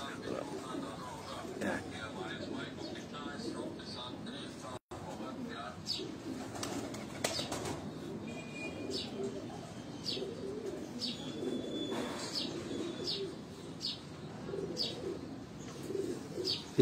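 Breeder pigeons cooing and chirping in a loft, soft repeated coos and occasional wing flaps at moderate distance over a steady background hum, with faint talk mixed in.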